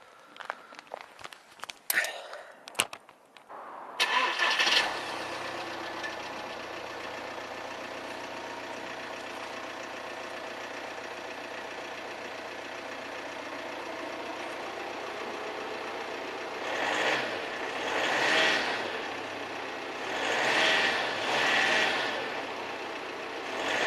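An Audi A6 C6 with a 2.0 TDI diesel engine cranks and starts after a few clicks and knocks, then settles into a steady low idle with a couple of brief revs near the end, heard close with no talk.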